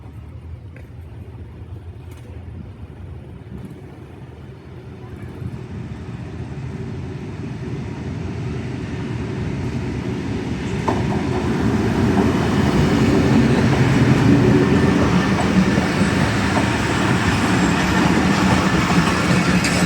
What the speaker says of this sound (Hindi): आ रही जी ZCU20 की क़यादत में। 6402 लोकोमोटिव है ZCU20।